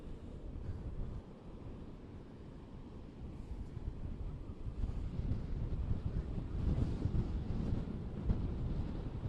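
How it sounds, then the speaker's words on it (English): A strong easterly wind buffets the microphone at an Orange Beach boardwalk, a continuous low roar that gusts louder toward the end, with surf faintly beneath. "That wind is still pushing hard out of the east"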